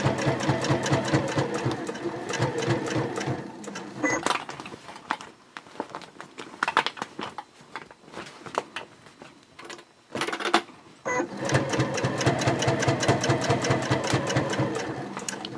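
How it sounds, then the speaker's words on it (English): A sewing machine runs in steady rapid bursts of stitching through a clear view project pouch from the exterior side, stopping for a few seconds midway before stitching resumes, close and fairly loud. "I am sewing from the exterior side of the pouch."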